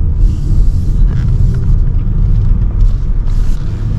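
A 2023 BMW iX M60i electric car drives while cornering, giving a loud, steady low rumble from the road and motors, heard from inside the cabin with no one talking.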